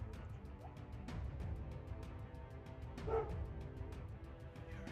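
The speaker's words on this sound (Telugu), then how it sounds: "ఈ కుక్క ఎందుకు ఇలా అరుస్తుంది?" A dog at night near a house, barking and whining repeatedly in short bursts at moderate distance, with a faint yelp in the middle, over a steady low background hum.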